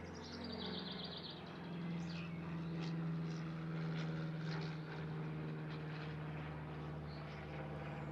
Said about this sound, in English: You can hear a small aeroplane overhead.